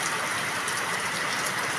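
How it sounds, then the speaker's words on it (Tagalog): Steady rain falling on an afternoon, a dense even hiss of drops continuing without a break. "Umuulan na po dito sa amin,"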